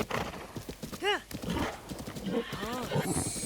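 A wild horse in a video game side quest whinnies once clearly, with hoofbeats clopping and other game sounds around it, and a voice talking at the same time.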